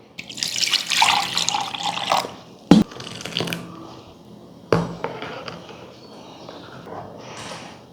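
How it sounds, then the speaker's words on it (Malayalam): Water pours into mango juice in a mixer jar, a bright splashing stream at first, then a sharp knock or two and a fading trickle, with no voices. "ഇനിയും വെള്ളം ഒഴിക്കാം."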